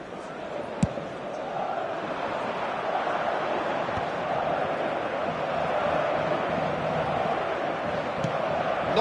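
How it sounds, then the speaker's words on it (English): Stadium crowd in a football video game on PS4 cheering and roaring steadily throughout, a broad sustained wash of noise with a sharp thud near the start, under commentary-style speech. "Certainly gave this crowd something to really cheer about."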